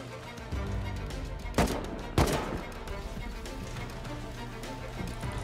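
Two sharp, loud AK rifle shots in the survival game Rust crack about half a second apart over a steady low background rumble.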